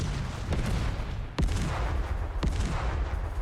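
Space combat in the strategy game Ephemeris as fighter squadrons attack frigates: a steady roar of rumbling fire broken by sharp, loud blasts at irregular intervals, with no talking.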